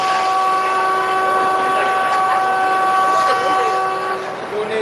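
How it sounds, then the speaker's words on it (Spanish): Trains in Santiago de Chile, with steady rolling rail noise and sustained whistle-like tones running throughout, loud and continuous. "Con el sonido de los trenes desde Santiago de Chile"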